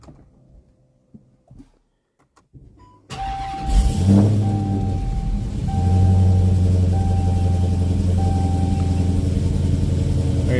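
A 2017 Dodge Charger engine cranks and fires up, settling into a loud, steady idle close by, with warning chimes sounding over the rumble.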